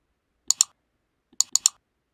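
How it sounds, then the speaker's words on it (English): Computer mouse clicked twice in quick succession, then again a moment later as crisp paired clicks, close and alone in silence, while opening a folder on a computer. "Double click this folder"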